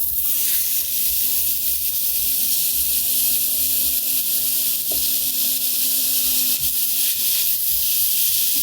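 Onions sizzle in a 15-inch cast iron pan, a steady close hiss of frying with faint scrapes and stirring clinks beneath it, no voices.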